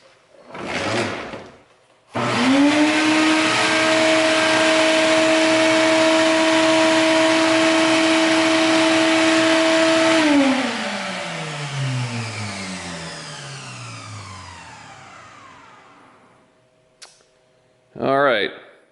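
DeWalt DXV09P-QTA Stealthsonic wet/dry vacuum starting up with a thump, running as a loud steady whine and airflow roar for several seconds, then switching off and winding down with a falling pitch, with a click near the end.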